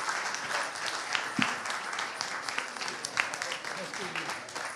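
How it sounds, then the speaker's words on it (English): Audience applause at a live Sunday papers show, a steady patter of clapping hands with a few sharper individual claps, voices mixing in underneath. "can I have a huge round of applause for Paul and Ben?"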